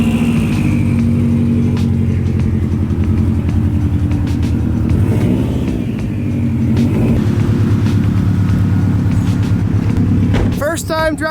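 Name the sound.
widebody Subaru WRX driving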